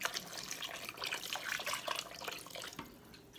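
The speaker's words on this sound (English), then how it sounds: "add a little water," A little water poured into a cooking pot already holding chicken stock, a short continuous splashing stream, close and steady, with no talking over it.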